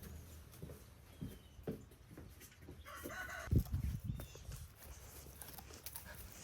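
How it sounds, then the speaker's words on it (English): Farm chickens on a Midwest farm cluck and a rooster crows at feeding time in autumn, moderately near, with faint background rustling and no talking. "Time to feed the chickens."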